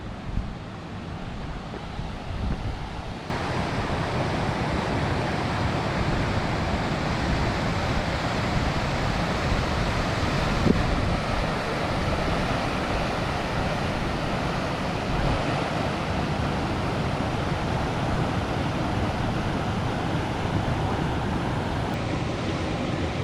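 Tidal standing waves at North Point near Victoria, BC, give off a steady, wide rushing roar of water, with wind buffeting the microphone throughout.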